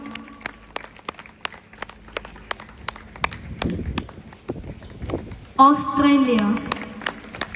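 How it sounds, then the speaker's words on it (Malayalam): Rhythmic clapping at a program at Yes Academy: sharp, evenly spaced claps tick steadily beneath a voice calling out country names, with a louder burst of sound near the end. "കയ്യടി നന്നായിട്ട് വേണം"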